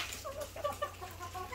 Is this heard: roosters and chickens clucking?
yes